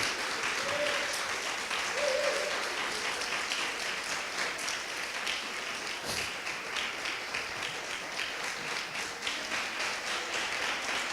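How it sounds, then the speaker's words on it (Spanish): Sustained applause from a congregation during a Sunday church service, a dense steady wash of clapping for the King that holds evenly for the whole stretch, with a faint tone briefly heard early on. "un aplauso al Rey con todo su corazón"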